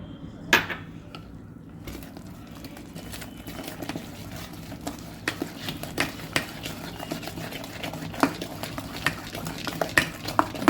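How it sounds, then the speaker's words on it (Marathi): Plum cake batter being beaten by hand in a bowl, a steady run of soft stirring and tapping with sharper clicks against the bowl, close and continuous without speech. "याला एक साधारण 2 ते 3 मिनिटं असं फेटून घ्यायचं."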